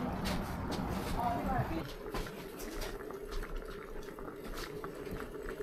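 Water is poured over 2018 aged tangerine peel in a tea rinse, a soft splashing trickle that fades into a quieter watery hiss, with people talking over it.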